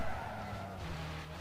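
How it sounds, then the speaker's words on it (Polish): A car in the racing game Need for Speed: Most Wanted skids through a braking turn, giving a steady, loud tire-scrub hiss with engine drone underneath for about a second and a half, with no talking. "O, i teraz wziąłem zakręt na tym hamulcu."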